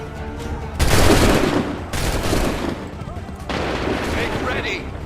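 Musket volleys crack out in the Assassin's Creed 3 video game, a loud massed burst near the start followed by further ragged volleys and rolling echoes, with shouted orders over the battlefield din.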